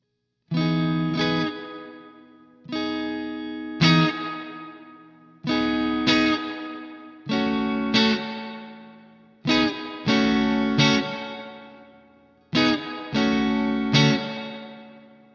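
Electric guitar played through a spring reverb pedal: strummed chords repeat in spaced bursts, each ringing out with a springy, splashy reverb tail, fairly loud and alone with no talk.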